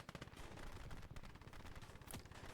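Twin .50 calibre guns trade fire with an MG34 in the tank battle game Gates of Hell: Ostfront, dense rapid bursts rattling continuously at a distance, faint and muffled in a steady stream.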